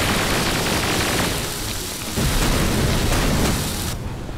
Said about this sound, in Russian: Вот это взрывы эпические.